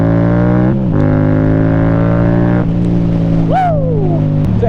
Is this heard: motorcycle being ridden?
yes